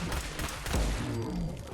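A laser pistol fires in Fallout 4 in a quick burst of shots, zapping blasts landing close over low rumbling game ambience and a few heavy thuds.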